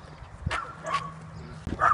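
A dog barks in a few sharp bursts, close by and fairly loud, with short yips between them, heard on a walk past houses.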